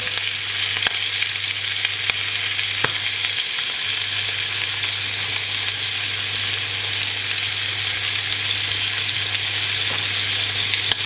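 Flour-coated rabbit pieces cooking in a Mambo 12090 kitchen robot, a steady dense hiss of sizzling fat with a low constant motor hum, close and continuous with no pauses.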